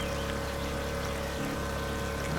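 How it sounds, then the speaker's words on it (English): In the DrainSim video game, water flows back through a drained farm field as a continuous, dense rushing and pouring wash. It stays loud and steady throughout, with no speech. "A lot of water is flowing back, actually."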